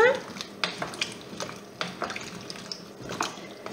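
Butternut squash and carrots in a pot of boiling salted water are stirred, with intermittent spoon clinks and scrapes over a faint watery bubbling while a voice speaks lightly underneath.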